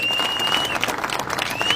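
A crowd at a political rally claps densely and continuously, with sharp whistles rising above the applause.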